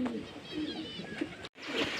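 Pigeons coo softly and continuously at moderate distance, with a brief drop-out just before the end.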